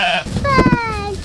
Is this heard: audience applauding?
no